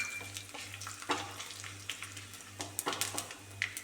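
Fenugreek seeds and dried red chillies tempering in hot oil crackle and sizzle quietly, with scattered sharp pops and stirring scrapes over a low steady hum.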